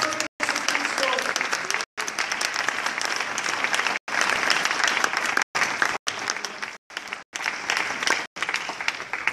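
A church congregation at a Sunday school service applauds in a dense, loud, sustained wash of clapping, broken by several abrupt gaps.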